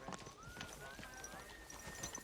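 Rhythmic clip-clop of horse hooves trotting in the video game Kingdom Come: Deliverance II, with faint background tones and a voice speaking over it.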